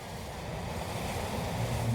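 Gusty wind rumbles and buffets across the microphone, growing slightly stronger, with a broad outdoor roar like surf behind it.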